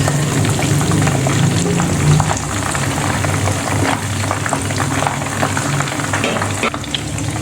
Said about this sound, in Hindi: हाई फ्लेम पे ही हम इसके अंदर डालेंगे ऑयल में, और फिर लो टू मीडियम फ्लेम पे हम इसे फ्राई करते रहेंगे।